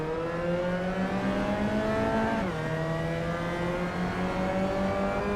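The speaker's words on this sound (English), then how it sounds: "as we brake I torture my car even more by over-revving slightly but keeping the position" Race car engine in the Assetto Corsa racing game, held at high revs while braking, a loud sustained tonal whine that drops in pitch midway and then steadies, continuous and close.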